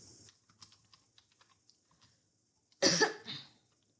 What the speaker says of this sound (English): So now we are typing the address.